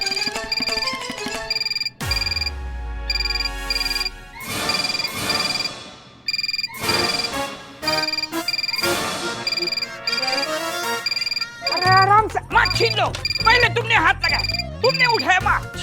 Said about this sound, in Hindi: ये फोन मेरा है। हमारी डेस्क पे बजा।